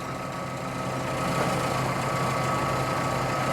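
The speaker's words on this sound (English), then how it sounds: "And here comes the crane." A crane lifts large roof trusses at a building site, its engine a steady, continuous rumbling drone that holds close and loud throughout, with no voices.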